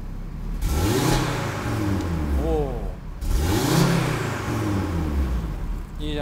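Audi RS3 Sportback engine in comfort mode revved lightly twice from idle, each blip a smooth rising then falling swell up close, with voices talking over it.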